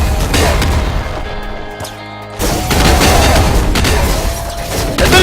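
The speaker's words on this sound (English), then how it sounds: "Fill the area with explosions." Rapid bursts of explosions from a grenade-launching weapon in the game Nuclear Throne, loud and dense booms overlapping throughout with a brief lull midway before resuming.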